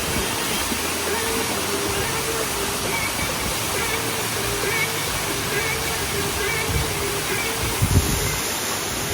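A constant roar of rushing water from a forest waterfall fills the scene, broad and steady, with a brief louder splash near the end.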